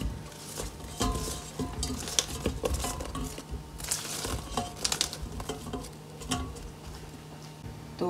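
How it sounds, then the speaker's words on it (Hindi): Fresh plums tumbling into a cooking pan for plum chutney, a run of soft knocks and clatters with light scraping and a faint background hum, steady and close with no talking. "सबसे पहले मैं एक तेज़की के अंदर ये अपना सारा आलू बुखारा डालूँगी"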